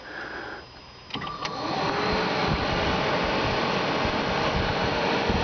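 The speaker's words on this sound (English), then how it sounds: "I guess I want to show that the air conditioner works good." Air conditioner fan on a 1966 Ford Mustang convertible blowing steadily, a broad whooshing airflow that rises after a brief switching noise and then holds at a constant level, close and without talk.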